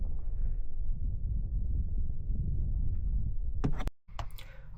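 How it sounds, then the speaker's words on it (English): A Mercedes W205 C220 with the 2.1 diesel engine idles just after an oil change, giving a low, steady rumble close by, followed near the end by a couple of sharp clunks. "I've started the engine."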